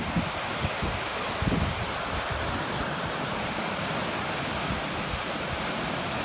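A flooded woodland stream swollen by wet, windy weather rushes in a constant, dense roar of water, close and steady throughout with no voices.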